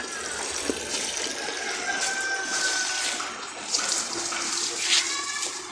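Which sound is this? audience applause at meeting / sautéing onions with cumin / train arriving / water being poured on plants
water being poured on plants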